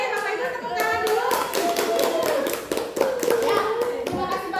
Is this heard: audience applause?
yes